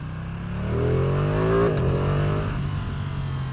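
A Ducati Streetfighter V2 motorcycle engine revs up, climbing in pitch to a peak and then settling back to a steady idle, close and fairly loud, with no one speaking.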